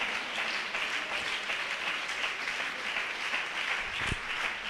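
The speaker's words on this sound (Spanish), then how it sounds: "Dale ese aplauso fuerte al Señor" A church congregation applauds in a steady, dense wash of clapping that holds evenly throughout, with no voices rising above it.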